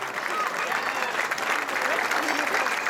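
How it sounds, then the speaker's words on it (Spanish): An outdoor crowd at a San Miguel festival in Tudela claps for dancers, a dense, even wash of applause with voices mixed in. "Un aplauso para ellos."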